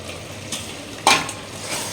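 Masala-coated chicken scrapes and sizzles as it is stirred in a clay pot, a low frying hiss with one sharp spoon-scrape clatter partway through, close and without voices.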